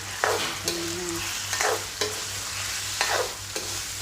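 Tofu fries in a pan for a vegetarian khanom jeen nam ngiao, with a steady close sizzle broken by several sharp scraping stirs of a utensil at irregular intervals, with no talking.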